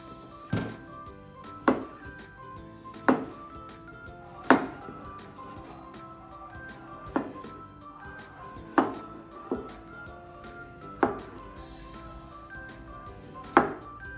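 A knife chops through a seeded vegetable on a board in a home kitchen, about ten crisp, evenly spaced thunks at a slow, steady pace, close and clear against a quiet background with no talking.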